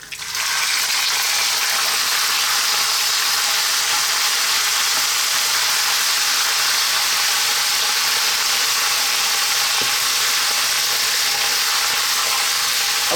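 Beef pieces are dropped into hot spiced oil for a curry and set off a loud, dense, steady sizzle. The hiss starts abruptly and runs unbroken, close up.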